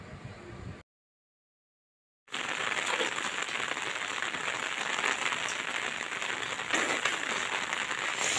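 Light drizzle falls outdoors during a summer evening in a Haryana village, making a steady, close, even hiss that continues alone without any talk after a short silent gap.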